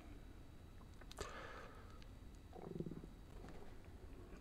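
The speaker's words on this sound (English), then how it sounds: "That was my stomach reminding me that" A person's stomach rumbles faintly in a brief, low gurgle, close by in a quiet room with no talking.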